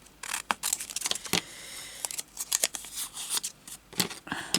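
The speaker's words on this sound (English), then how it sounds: "So this piece would be cut out of cardboard," Scissors snipping through a piece of cardboard for stumpwork embroidery figures, a quick irregular series of close, crisp cuts and rustles with no talking.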